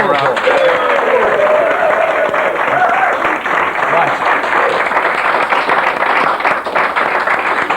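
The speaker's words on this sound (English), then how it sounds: "Ladies and gentlemen, let's have a nice round of applause" A studio audience on a radio game show claps for the contestants. The loud, steady applause runs continuously, with a faint tonal voice or cheer rising briefly in the first few seconds.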